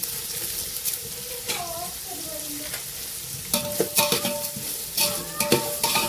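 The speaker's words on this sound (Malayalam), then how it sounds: "കുറച്ച് ഉപ്പിട്ട് നല്ലപോലെ ഒന്ന് ഇളക്കിയെടുക്കാം" Sliced onions with a pinch of salt being stirred in a frying pan for chicken biryani, a continuous sizzle broken by sharp metal spoon scrapes and clinks that grow busier in the second half.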